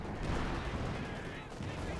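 Gunfire and explosions from the Company of Heroes 2 strategy game, a dense rumbling barrage of blasts and shots kept low and muffled over about two seconds.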